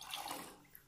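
Liquid being poured back into a container in a classroom demonstration, a brief soft splashing trickle, close but faint.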